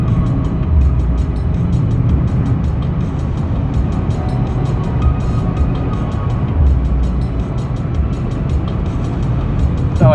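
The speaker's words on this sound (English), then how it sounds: "That's cruise control accelerating like this," Steady, loud in-cabin road and engine drone from a Mitsubishi Mirage accelerating on cruise control at highway speed, a continuous low rumble with tire noise that holds for the whole stretch.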